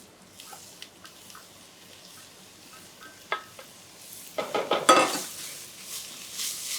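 Chopped onions frying in a pot over high heat for a Hungarian goulash, a soft steady sizzle with scattered clinks and scraping stirs that swell louder toward the end.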